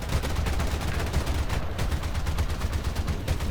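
Bomber gunners in the War Thunder game fire machine guns in rapid, continuous bursts, loud and close against a deep engine drone, the rattling running unbroken from start to finish.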